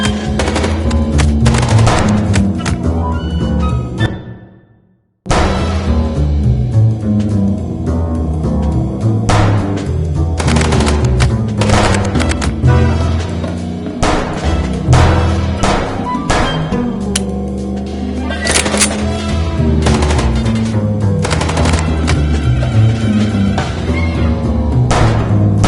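Sustained gunfire in the game Chicken Police, dense loud rapid bursts of shots running almost continuously, broken by a brief silent gap early on before the firing resumes.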